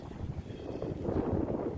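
Strong, cold wind buffets the microphone in a steady low rumble with gusty swells, loud and close, with no voices, while shell hunting.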